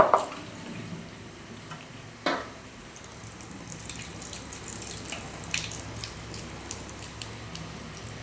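Water from freshly boiled chow mein noodles draining away in a home kitchen, a steady soft trickle with a few brief clatters and splashes near the start and middle, no talk.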